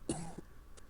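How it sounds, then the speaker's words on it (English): One short, near cough from a character in the Gabriel Knight adventure game, a single harsh burst followed by a faint echo of the same sound a moment later. "He's coughing like crazy"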